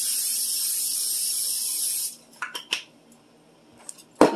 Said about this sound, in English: And I'm going to spray it with my butter spray.